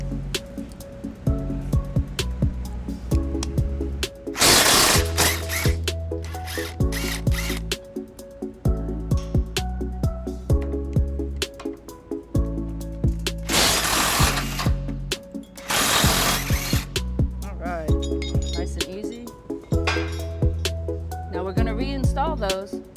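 Removing an existing bolt on a 2010 Toyota Tundra front end with a hand tool, close metallic clicks and ratcheting bursts broken by louder rasping scrapes, spread unevenly across a long stretch.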